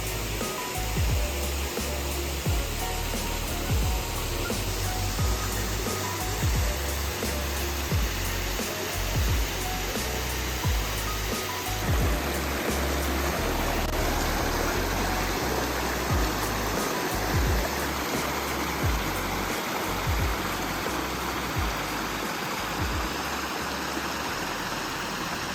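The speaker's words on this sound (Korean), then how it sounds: "계곡에 왔으니 시원한 물소리 좀 감상하실까요?" Rushing water pours continuously in a dense, steady roar, like a mountain stream tumbling over rocks, loud and unbroken with no voices.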